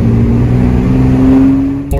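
A 6.7 Cummins in a third-gen truck with an S400 VGT turbo runs on a dyno, a loud, close engine drone with a rising whistling tone as the turbo spools, cutting off abruptly near the end.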